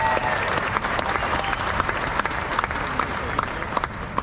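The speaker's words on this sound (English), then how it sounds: "How about another round of applause for Kate Kelly and that national" A crowd at Wrigley Field in Chicago applauds a national anthem singer during an outdoor naturalization ceremony. The clapping is dense and sustained, with many sharp individual claps standing out, and it continues steadily for several seconds with no talking.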